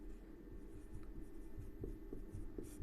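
A pen scratching across paper while a math solution is written out, producing soft, quiet strokes in short repeated bursts, with no speech.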